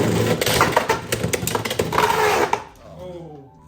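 Beyblade X spinning tops Chain Incendio and Arrow Wizard clash in a stadium, rapid loud grinding and clattering hits that stop abruptly, then a faint whirr, with people talking over them.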